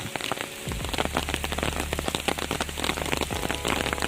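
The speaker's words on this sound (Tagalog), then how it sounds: "Ang lakas na ng ulan, yung payong ko hindi kaya." Heavy rain pours down steadily, a dense patter of drops drumming on a nearby surface with a low background rumble, no voices.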